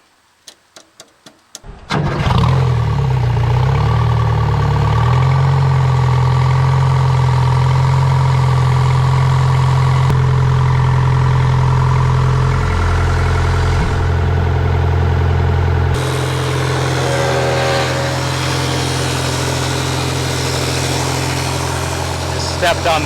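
An old abandoned excavator's diesel engine cranks with a few quick clicks, then catches and runs loud and steady, a deep close rumble that holds for the rest of the clip, shifting tone partway through.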